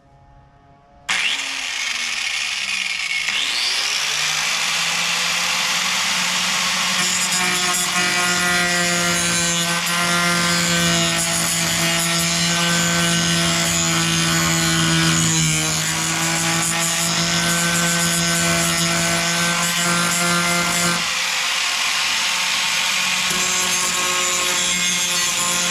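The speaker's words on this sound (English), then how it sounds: "I'm basically just taking a grinder and grinding them" An angle grinder bites into the side trim of a classic Chevelle, a loud sustained high-pitched grinding whine with a steady tonal drone, starting abruptly after a quiet moment and dipping briefly partway through.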